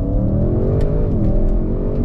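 Audi RS6 engine revving with exhaust valves open, a loud, close, deep droning exhaust note with a brief dip and rise in pitch partway through, no talk.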